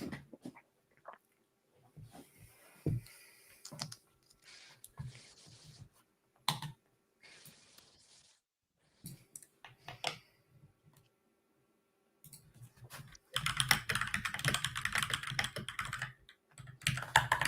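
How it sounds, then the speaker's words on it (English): A computer keyboard clatters in scattered bursts of key presses with gaps between, quiet and close, turning into faster, denser typing toward the end. "we hear a keyboard"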